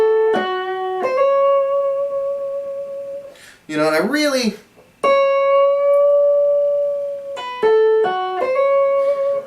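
Electric guitar lick with long, slow string bends into sustained notes, played loud and close, with someone speaking briefly in the middle.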